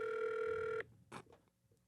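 A telephone rings unanswered, one loud steady electronic ring tone lasting under a second, then it cuts off and a few faint bumps and rustles follow.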